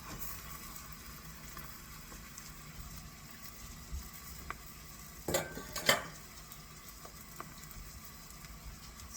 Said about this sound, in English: We are going to saute these vegetables.